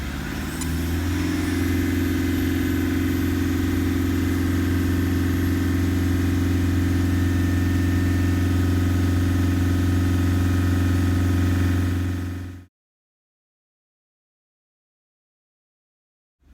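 A Toyota Land Cruiser engine with 417,000 km idles steadily while warming up, a deep, even drone for about twelve seconds, then cuts abruptly to silence.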